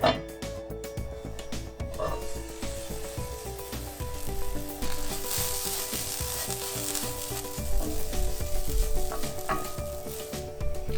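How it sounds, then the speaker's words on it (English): Poha with oats cooks covered on low heat, giving a steady, close sizzle that swells slightly toward the end, with soft background music tones underneath. "Now let's turn the heat to low and cover and cook it for 5 minutes."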